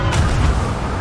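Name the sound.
cannon shot fired in video game Sea of Thieves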